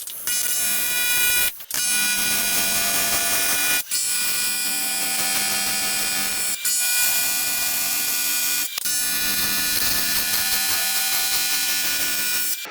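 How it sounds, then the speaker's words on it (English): Continuous loud crackling hiss of welding on a fabricated part in a home garage during a small-block Ford 427 engine build, running in long steady bursts with brief pauses between them. "Let's go ahead and weld it up."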